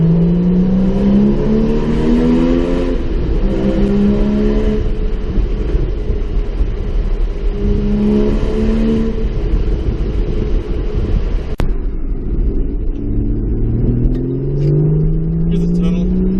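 The engine of a 2014 Porsche Cayman drives through a tunnel, a loud steady rumble with repeated rising revs as it accelerates through the gears, and a voice talking over it.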